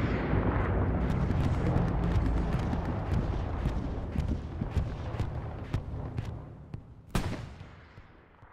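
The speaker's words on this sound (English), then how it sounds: "That bombing run should clear them out." Bombing run explosions in the WWII shooter Hell Let Loose on a daytime El Alamein desert map, a dense rumbling barrage of blasts with sharp impacts rolling on continuously, loud throughout and tapering near the end.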